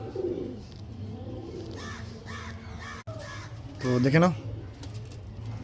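Lalshira pigeons, a male and female tournament pair, give a brief low throaty coo nearby after someone speaks, with other bird calls faint in the background.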